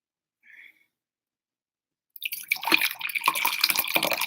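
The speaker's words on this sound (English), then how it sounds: "pour my tea" Tea is poured into a cup, a sudden close splashing stream that starts after a quiet pause and a tiny clink, running unevenly to the end.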